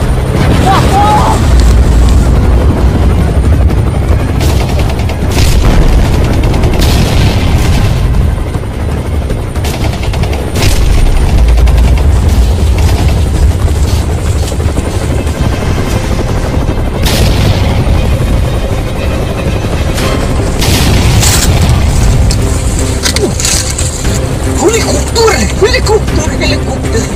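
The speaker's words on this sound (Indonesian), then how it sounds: "Helikopter. Nyerang." Helicopter attack in a Sundanese Rambo parody short film: a loud, constant rotor roar with bursts of gunfire and heavy booming explosions throughout, along with raised voices.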